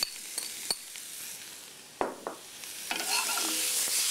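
Salmon spread being stirred into a mixture in a pan, soft scraping and sizzling texture with scattered spoon taps and clinks against the cookware, close and moderately loud with no voices.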